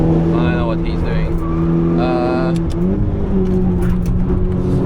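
A modified VW Golf 6R running on semi-slick tyres laps the Nürburgring, its engine droning steadily and loudly from inside the cabin, with a sustained pitch that rises and falls through gear changes.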